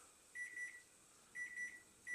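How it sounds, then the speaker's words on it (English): A kitchen timer beeps in three bursts of rapid tonal pips about a second apart, clear but fairly quiet against a low background hum. "That's the timer."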